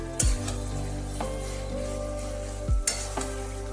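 Elephant foot yam stalks fry in a pan, a steady close sizzle under a low hum, with a few heavy scrapes and thumps of a spoon stirring through them and no talking.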